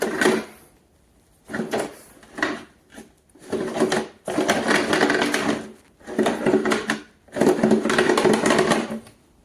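A faulty LABGREY stationary exercise bike being turned, giving loud grinding, rattling bursts in repeated surges separated by short silences, close up with no talking.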